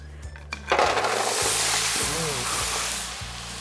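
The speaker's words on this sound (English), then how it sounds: "why we started with a hot sheet pan was to help get some of that sizzle and sear going" Frozen vegetables hit a hot, unlined sheet pan and burst into a loud, steady hiss of sizzling that follows a few clinks, while a person talks over it.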